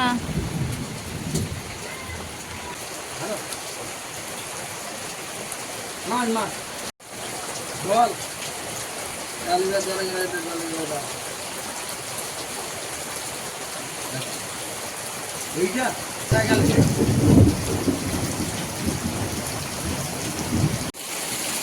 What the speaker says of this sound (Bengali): বাইরে যেমন মেঘ গর্জন করছে তেমনি বৃষ্টিও চলে এসছে